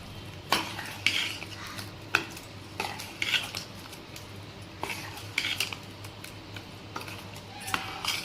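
A utensil stirring mushroom gravy in a metal pot, irregular scraping clinks and knocks against the sides at close range, with a low steady hum underneath and no talking.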